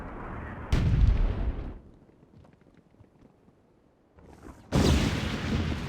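Dwarves lobbing explosive attacks in the video game Myth 2: Soulblighter, a strategy battle: two heavy booming blasts, each followed by a rumbling decay, with a quieter lull between them.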